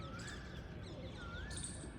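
Faint chirps and soft calls from pet pigeons, a few brief tweets over steady background noise, with no talking.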